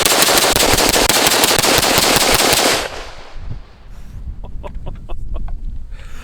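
Vudoo Rifleworks EDC .308 pistol fired in a rapid, loud string of shots for about three seconds, then sharp echoing cracks taper off into quieter scattered reports.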